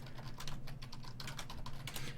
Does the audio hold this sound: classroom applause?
no